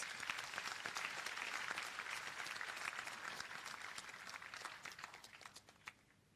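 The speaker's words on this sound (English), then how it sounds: "Please give all the graduates a round of applause." Audience at a business studies academy graduation ceremony in Seychelles applauding the graduates, a dense even clapping from a large crowd that holds steady and then thins and fades out toward the end.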